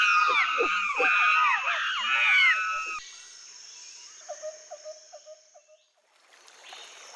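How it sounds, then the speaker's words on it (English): Monkeys calling in a rainforest: a loud, dense chorus of shrill, wavering cries for about three seconds, then quieter ambience with a short series of faint rhythmic calls. "They're monkeys. Don't be scared, Maria. They're just talking to each other."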